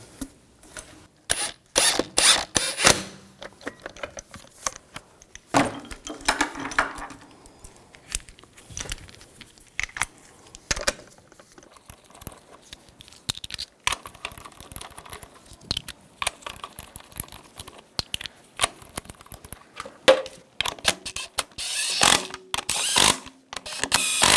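Lug bolts on a 2000-2006 BMW X5 front wheel are run in and snugged with a ratchet, producing bursts of rapid metallic clicking and jangling with pauses between them, close and fairly loud.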